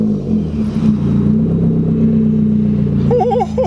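A turbocharged 1.8-litre Chevy Cruze engine runs at a steady, loud, close idle with a low droning rumble, and a brief wavering tone rises over it near the end.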